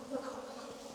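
Honeybees from defensive, aggressive hives buzz steadily and close around the listener, a dense continuous hum of many wings with no voices.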